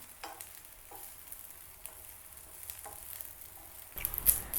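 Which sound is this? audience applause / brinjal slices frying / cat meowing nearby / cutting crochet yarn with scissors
brinjal slices frying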